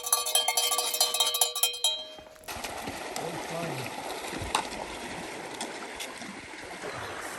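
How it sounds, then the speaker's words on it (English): A cowbell clanks in quick, repeated rings for the first two seconds on a hiking trail near the Gila River, then gives way to a steady rush of flowing water with faint scattered knocks. "More cowbell."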